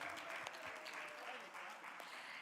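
A synagogue congregation applauds during a farewell Shabbat service, steady dense clapping filling the room at a moderate level throughout, with faint murmuring voices underneath.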